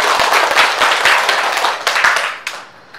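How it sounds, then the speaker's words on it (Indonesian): Applause from an audience at a classroom presentation session, loud, dense clapping that holds steady and then fades out near the end. "Sekali lagi kita kasih aplaus dulu"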